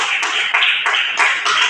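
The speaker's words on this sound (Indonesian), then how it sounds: "tepuk tangan buat 2 teman kalian yang memberikan jawaban dan soal" A classroom claps for two students: quick, bright, even bursts of hand claps from several people, close and loud for the whole moment.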